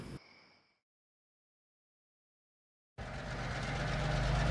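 A short fade of engine noise, then silence, then a low, steady diesel engine rumble starts up and grows slightly louder, close by.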